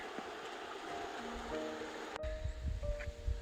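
A small river below a mountain trail on Mount Timpanogos, Utah, gives a constant, soft rushing wash from a distance, with faint rustling and a brief bump partway through.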